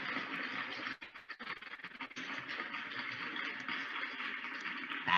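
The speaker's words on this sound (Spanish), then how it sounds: "un aplauso, un aplauso." A classroom of students applauds three teams after their seminar presentations; the steady, faint patter of many hands goes on for several seconds, softly and evenly, without any talk.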